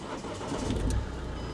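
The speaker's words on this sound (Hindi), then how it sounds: "अब गाड़ी को स्टार्ट करते हैं।" A used 2014 car's engine cranks and catches in a brief burst, then settles into a low steady idle heard from close by.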